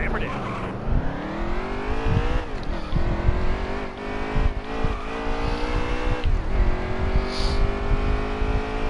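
Race truck engine roars under full throttle on a road course, pitch climbing and dropping through repeated gear changes, loud and close, with a voice talking over it.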